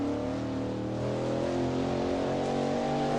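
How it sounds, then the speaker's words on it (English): Engine of a Nissan race car running ahead in a historic sportscar racing video game, heard from a Ford GT40 at Bridgehampton as a steady, loud harmonic engine drone that holds for about three seconds with no talk. "You can hear some sort of engine up ahead."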